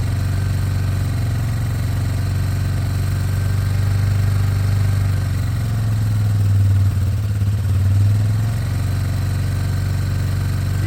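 A 2003 Yamaha Big Bear 4x4 ATV engine idles with the choke on, a steady loud low chug with mechanical clatter and a slight rise and dip in revs near the end, no talking.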